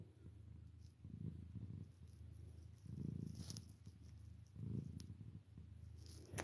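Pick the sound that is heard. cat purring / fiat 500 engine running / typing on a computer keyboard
cat purring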